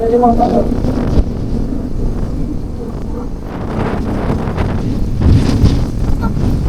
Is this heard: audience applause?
no